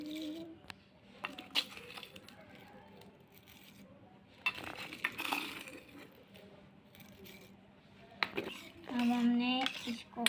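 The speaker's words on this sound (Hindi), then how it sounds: "अब हम इसमें 3 टीस्पून शक्कर डालेंगे" Three teaspoons of sugar are spooned into a bowl of pancake batter, giving quiet, scattered clinks and taps of a metal spoon against the bowl, with soft scraping and a few louder knocks near the end.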